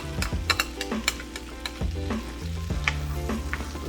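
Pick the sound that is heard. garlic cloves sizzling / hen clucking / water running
garlic cloves sizzling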